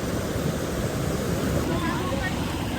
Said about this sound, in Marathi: पाण्याचा फ्लो कसा आहे.